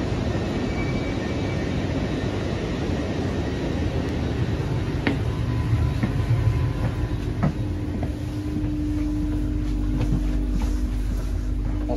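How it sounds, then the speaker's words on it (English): Steady rumble inside a moving train carriage on the way to Doncaster, with occasional clicks and a faint rising whine, continuous and fairly loud with no talking. "Right, we're aboard a train now."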